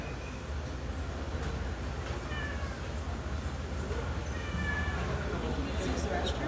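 A cat meows a few times amid people talking nearby, over a low steady background rumble.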